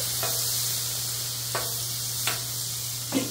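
Potatoes sizzling in oil on a Blackstone griddle, a steady bright hiss with a low hum underneath, broken by a few scraping stirs of a spatula at intervals, close and moderately quiet, no talk.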